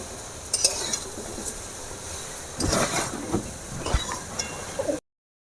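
Pickle being stirred in a pan over low heat, with soft scraping strokes and faint sizzling at close range, a few louder stirs in the middle.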